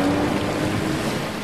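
A lightweight Samba prototype jet ski maneuvers on the water, giving a steady engine hum mixed with a broad wash of splashing spray, fairly faint and continuous for a moment with no talk.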